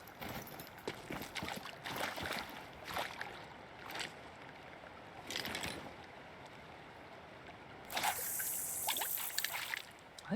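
Steady rushing water at the base of a waterfall in the fishing game Call of the Wild: The Angler, a continuous broadband wash with brief splashy surges, loudest near the end, no talking.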